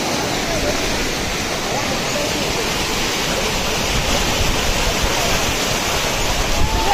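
Rushing, churning floodwater roaring steadily and loudly up close, a dense continuous wash of turbulent water with no breaks.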